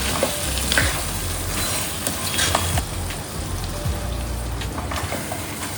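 Yam (suran) cooking in masala in a pan, giving a loud, close, steady sizzle with the scrape of stirring and a few sharper crackles.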